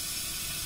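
Steady steam hiss from a valve in the video game Daylight, a continuous broadband rushing that fills the whole moment at an even level with no talking over it.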